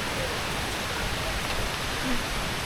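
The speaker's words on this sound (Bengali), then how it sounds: "এরকমভাবে বৃষ্টিতে ভিজতে পারছি এটা খুবই আনন্দের বিষয়" Rain falls steadily in a remote hill village in the Bandarban hills, making an even, unbroken hiss of drops that holds at the same level throughout, with no voices.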